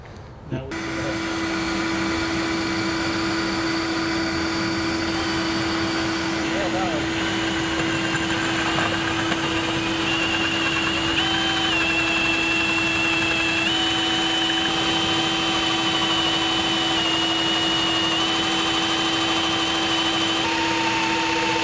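Pilot drill bit boring through the deck of a pontoon boat, a steady loud whine running continuously for the whole stretch, close by.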